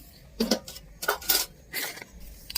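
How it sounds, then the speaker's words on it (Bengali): Dishes being scrubbed and washed by hand at a village tube well, heard as a few separate close clinks and scraping knocks of metal utensils with quiet pauses between them. "এখন শুধু বাসনগুলো মাজছি"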